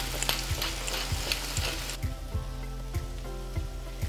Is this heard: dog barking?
no